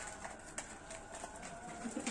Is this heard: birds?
yes